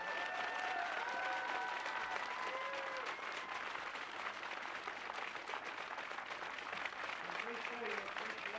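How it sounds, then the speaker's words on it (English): An audience at a national recurve archery final applauds the champions, with sustained, dense clapping from a crowd and voices mixed in underneath. "Big round of applause."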